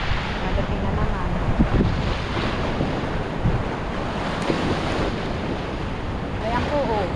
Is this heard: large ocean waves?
yes